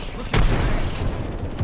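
A frag grenade in the shooter game Apex Legends goes off as a single heavy boom early on, followed by rumbling and other game noise.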